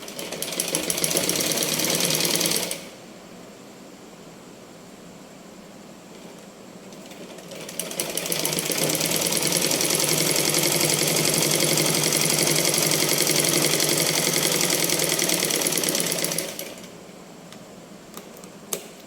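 A sewing machine stitches a 36-inch blouse front in two loud, steady runs of rapid needle clatter, separated and followed by quieter pauses.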